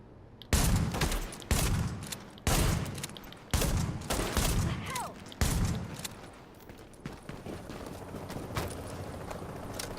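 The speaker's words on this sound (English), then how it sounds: "Shotgun seems to work good for suppression." Shotgun blasts in the video game Tom Clancy's The Division, five loud booming shots spaced about a second apart, each with a short decaying tail, followed by quieter scattered clatter and rustling.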